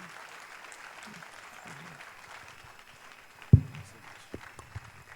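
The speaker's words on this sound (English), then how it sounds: "Please, a round of applause for him." Light, scattered clapping from an audience, fairly soft, with a sudden thump partway through and a few footsteps.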